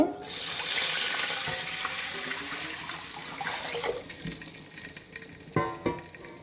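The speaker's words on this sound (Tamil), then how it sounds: "இப்போ வந்து நம்ம அளந்து வச்சு தண்ணி சேர்த்துக்கலாம்" Water rushes steadily into a pot for a few seconds, then tapers off, followed by a few scattered clinks and knocks of cookware nearby.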